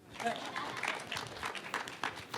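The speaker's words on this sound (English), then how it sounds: "A round of applause." Dense applause from an audience fills the clip, steady clapping with voices mixed in throughout.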